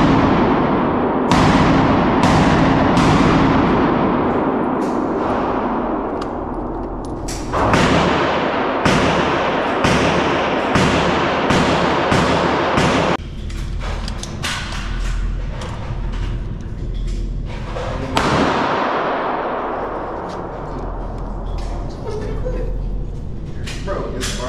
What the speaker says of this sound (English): Hey, I'm finna shoot binary.